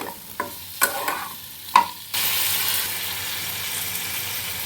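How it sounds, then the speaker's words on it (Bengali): Water poured into spice paste frying in a pan, cutting off a few scattered clatters and stirring taps with a sudden, steady loud hiss and sizzle that carries on to the end, close up with no talk. "এবার আমি জলটা দিয়ে দিই বেশি করে জল দিচ্ছি"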